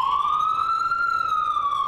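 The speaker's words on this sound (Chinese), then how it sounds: "消防车出勤一定会有警报声" A fire engine siren on a call wails loudly and continuously, its tone sweeping slowly upward and then easing back down, with no voices.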